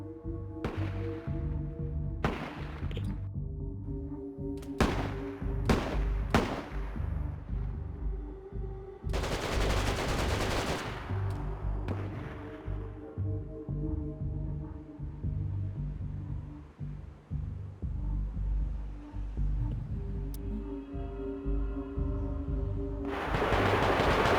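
Bursts of rapid gunfire crack out repeatedly over a droning low hum in DayZ, some single shots, some sustained automatic volleys, loud and close.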